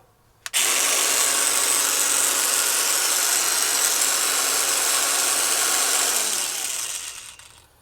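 A Parkside 20V cordless sheet metal shears motor starts abruptly, then runs loud and steady with a high whine for about seven seconds before winding down, close to the microphone with no talking.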